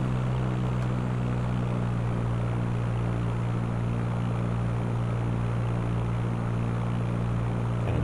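A propeller airplane engine drones steadily in the flight simulator Fly! II during a climb, a loud constant low hum with a strong tonal buzz and no speech.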